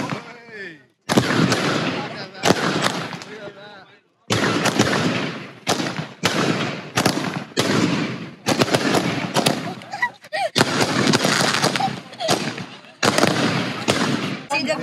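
Local fireworks display with bursts of loud cracking shots going off in rapid clusters separated by short gaps, close by, with people talking over the bangs.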